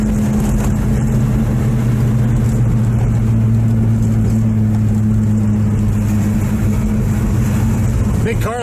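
A big car travelling fast on the road gives a loud, unbroken engine drone with a steady low hum and road roar, holding even throughout.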